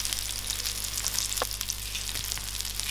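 Poppy seeds and curry leaves sautéing in a pan, a steady bright crackle and sizzle with occasional small pops and stirring scrapes, close and continuous without speech.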